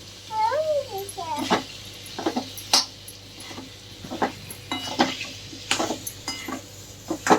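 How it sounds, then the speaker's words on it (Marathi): Potato pieces go into a pan for a potato bhaji and are stirred. Close clinks and scrapes of a spoon against the metal pan come in uneven bursts, and a person's voice is heard alongside them. "हे बघा, मी आता बटाटा घालत आहे त्याच्यात. छानपैकी हलवून घ्यायचा."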